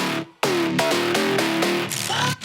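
Electronic dark house drop of stuttering glitch bursts and pitched string-like samples in a choppy rhythm, loud and dense after a brief gap at the start, no voices.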